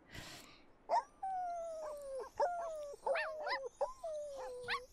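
Dalmatian puppies in The Sims 4 Cats and Dogs whimper and yip, giving a string of high, thin whines and short squeaky cries that repeat every second or so against a quiet game background.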